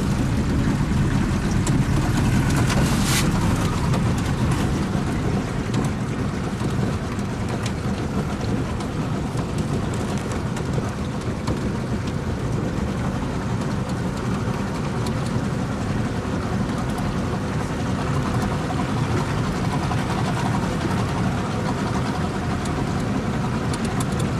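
A small boat's outboard motor runs steadily and loud throughout, its broadband drone thick with rushing wind and water noise, with no talk.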